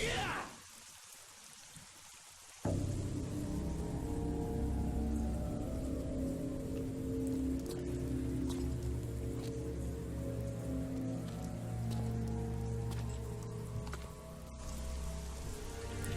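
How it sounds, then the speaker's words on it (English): Heavy rain pours steadily in Devil May Cry 3 ahead of a boss fight, a dense continuous wash over low droning music, with quieter ambience for the first couple of seconds before the downpour swells up loud. "Dramatic rain intensifies for a dramatic fight"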